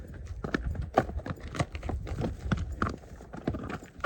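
A ridden horse's hooves clip-clop steadily over rough ground in a canyon bottom during a mule deer hunt, a close, irregular beat of hoof strikes with no talking.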